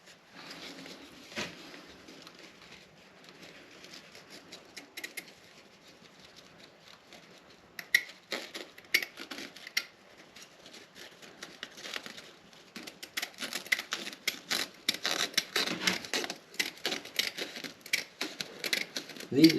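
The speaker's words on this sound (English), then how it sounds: "These serrated teeth on these scissors really help in cutting both the peel ply and the fiberglass." Serrated scissors snip through peel ply and fiberglass cloth at a boat-building bench, a string of crisp, crunchy cuts growing busier and louder over time, mixed with rustling fabric.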